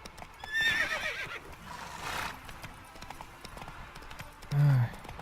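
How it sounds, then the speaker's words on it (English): Roach, a spooked horse in The Witcher 3 video game, neighs and whinnies loudly with clip-clopping hooves, then gives a short low snort near the end, with faint game ambience underneath. "Spooking my horse. Roach doesn't like ghosts."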